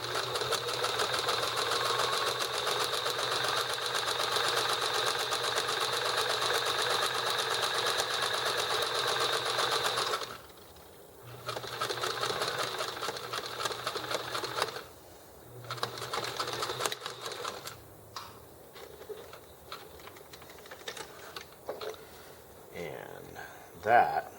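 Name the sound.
sewing machine back stitching a bag seam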